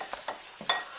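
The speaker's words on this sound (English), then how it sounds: "if you can hear that sizzling in the background" Hot link sausages frying in a pan, giving a faint, steady hiss of sizzling with a few soft stirring scrapes.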